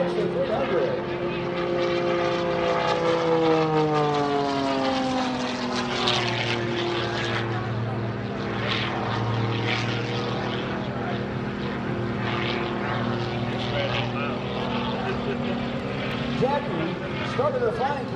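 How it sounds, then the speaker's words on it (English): Extra 300 aerobatic propeller plane flying past at the Dover AFB airshow, its engine drone sliding downward in pitch as it passes, moderately distant, with a public-address announcer talking over it throughout. "a little tease for this afternoon's air show, Jacqie leading the extra 300"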